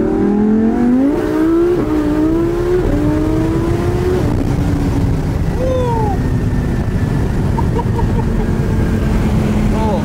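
A 1,700-horsepower AMS Performance Audi R8 runs hard on a public street, its engine note rising and shifting through several steps before settling into a steady drone, loud and continuous with other noise mixed in.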